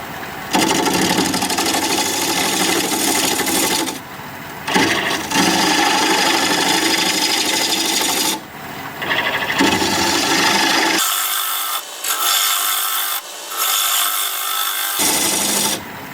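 A wood lathe turns a bowl at about 750 rpm as a tool flattens the bottom, giving loud scraping and cutting noise in bursts separated by short pauses, with no talking.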